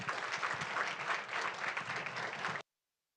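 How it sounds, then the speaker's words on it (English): An audience applauds the winners at an evening school district governing board meeting, steady, full clapping from a crowd that holds at an even level and then cuts off abruptly. "One big round of applause for all of our winners here tonight."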